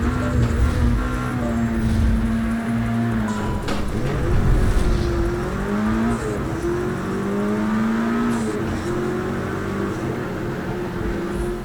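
Car engine racing in the video game Project Cars 3: a steady roaring engine with gliding pitch as it revs up and shifts, loud and continuous throughout.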